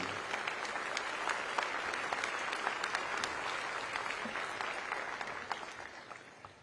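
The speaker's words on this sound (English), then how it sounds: "Let's round of applause for Twinkle, an amazing human being" Steady crowd applause at a Hawaii governor's inauguration ceremony, honoring a woman who helps the homeless community; even, sustained clapping from a large audience, moderately distant, with no one speaking over it.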